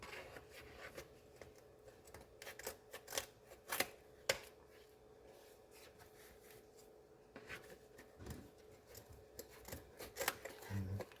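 Scissors snip through pipe cleaners in quick, light cuts, a series of crisp close clicks and brief rustles at an irregular pace, with a faint steady hum underneath.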